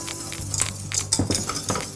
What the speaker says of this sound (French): Durant cette opération, on remue tout le temps la crème de façon à ce qu'elle n'attache pas au fond.